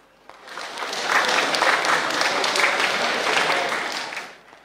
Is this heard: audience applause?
yes